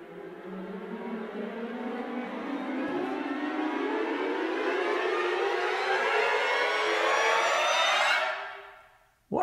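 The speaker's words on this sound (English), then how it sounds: "Let's go to the risers, because risers are pretty cool too" Orchestral riser effect from the Symphobia 4 Pandora sample library, four bars long: a steady, full swell of layered tones that climbs continuously in pitch and intensity for about eight seconds, then cuts off abruptly.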